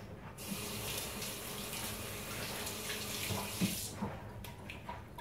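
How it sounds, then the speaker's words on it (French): Water runs steadily from a tap as hands are washed under it at a sink, a continuous near splashing hiss with a few soft knocks and splashes toward the end. "Je vais me laver les mains."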